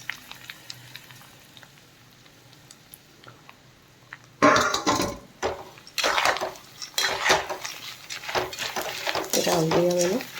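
Spices tipped into a hot kadhai and stirred, giving sharp metallic scraping and clinking bursts after a quiet start, continuing in busy, uneven strokes near the microphone.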